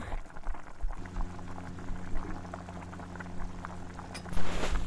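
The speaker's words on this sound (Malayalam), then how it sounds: "ഇപ്പോൾ കറി നല്ലതായിട്ട് തിളയ്ക്കുന്നുണ്ട്." Kerala-style beef curry boils in a pan, cooking in the juices released by the beef, with a steady bubbling simmer throughout and a brief louder burst of bubbling near the end.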